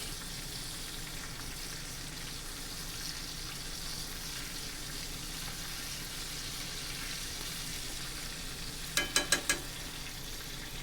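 A prime ribeye steak sears in a stainless steel pan with a constant, close hiss of sizzling fat, and a brief burst of sharp taps near the end.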